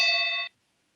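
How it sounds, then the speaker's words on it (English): A bell chime rings out loud and clear at the opening of an online E-Club meeting, holding a steady bright tone for about half a second before cutting off into silence. "The bell brought on the recording."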